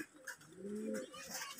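A pigeon gives a short, soft, low coo, a single rolling call heard faintly and briefly against a quiet background.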